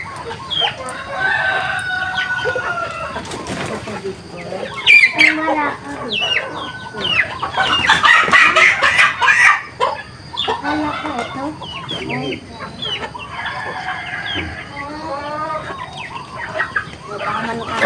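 A rooster and hens on a Philippine backyard farm cluck and squawk in repeated bursts, fairly close, with a louder crow-like outburst in the middle and people talking faintly in between.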